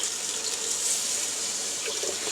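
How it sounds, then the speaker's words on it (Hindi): Water poured steadily into a pot of rice for cooking, a continuous close splashing rush with no talk over it. "अब मैं इसमें पानी डालूँगी और चावलों को पका लूँगी"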